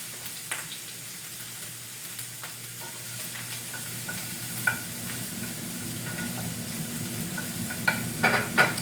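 Onion sautéing in a pan, a soft steady sizzle with occasional sharp pops and stirring scrapes, fairly quiet and close with no talking.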